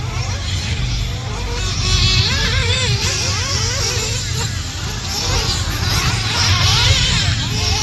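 Nitro RC buggies race in a sportsman-class main event, high-pitched engines whining and revving continuously as several cars pass in and out, with an announcer speaking over the track noise.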